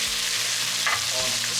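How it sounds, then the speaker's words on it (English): Wagyu steak sizzling and frying in a pan as butter with garlic is spooned over it, a steady hiss with soft scraping and spoon clinks close by, no talking. "And just basting, lifting the butter"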